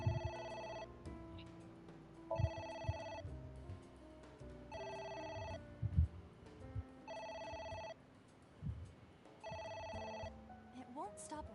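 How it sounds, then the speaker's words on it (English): A video game telephone rings in repeated bursts of an electronic bell tone, about five rings spaced roughly two seconds apart, heard clearly over a player talking and quiet game ambience. "It won't stop ringing."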